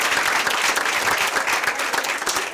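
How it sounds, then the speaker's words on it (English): Steady applause from a crowd at a school district meeting for a girls basketball team, dense clapping that stays loud and even throughout with no voices standing out. "let's give our girls basketball team another big round of applause"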